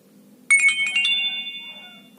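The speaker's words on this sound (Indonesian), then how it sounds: "Biasa dipakai untuk nada SMS atau untuk nada email." A Nokia 2600 classic phone plays its short SMS notification tone, a bright electronic chime of quick rising notes followed by a held ringing tone that fades, clear and close over faint room hum.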